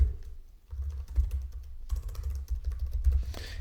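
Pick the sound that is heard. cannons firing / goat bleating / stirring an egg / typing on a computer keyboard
typing on a computer keyboard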